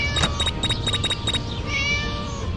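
A cat in the horror game Scary Teacher 3D meows in a quick series of short, bright calls, about six in a row, then a longer drawn-out meow, fairly close and clear.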